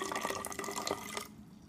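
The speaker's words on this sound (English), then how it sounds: "So you can take your water and carefully pour" Water is poured carefully into a graduated cylinder during a classroom volume demonstration, a quiet, steady trickle and splash lasting just over a second before it stops abruptly, leaving near silence.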